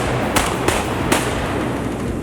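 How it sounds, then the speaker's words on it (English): Shotguns fired at ducks during a waterfowl hunt in flooded timber in Arkansas, three sharp booming shots in quick succession over a loud, steady wash of background noise. "Shoot that drake."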